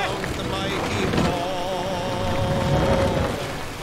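Rain and sea sounds while sailing a Viking longship in Assassin's Creed Valhalla, on the way to the Siege of Paris: a steady wash of rain and water noise with wind, and a sustained tonal music line running over it.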